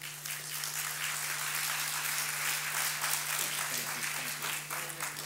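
An audience at a policy event applauds Rosa DeLauro with sustained, even clapping that fills the room for the whole stretch without letting up.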